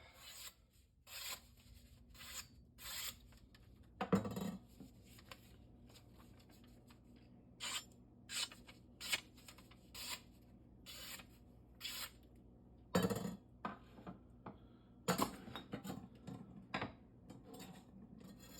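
A knife is sharpened on a Shapton Rockstar 1000 grit whetstone, a steady series of rasping strokes repeating in short bursts with occasional louder scrapes, close and alone.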